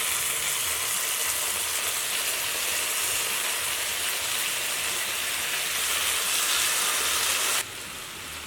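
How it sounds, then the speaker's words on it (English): Very fermented kimchi hitting a hot frying pan sets off a loud, steady hiss and crackle that holds evenly, then drops suddenly in level near the end. "Okay, I'm going to just add kimchi."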